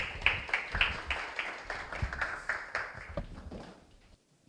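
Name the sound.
audience applause at a seminar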